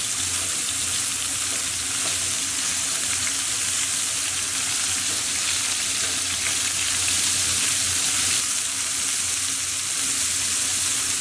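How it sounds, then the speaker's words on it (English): Beef kofte browning in hot olive oil in a pan, giving a loud, constant close-up sizzle and crackle that holds steady throughout with no voices. "Once our oil's nice and hot, we'll start to add in our kofte. Okay, and all we want to do is brown these on all sides."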